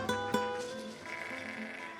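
Sheep bleat faintly in an open farm field, two short calls close together followed by quieter bleating amid soft background noise.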